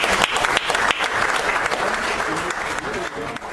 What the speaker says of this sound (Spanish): por favor un fuerte aplauso para el señor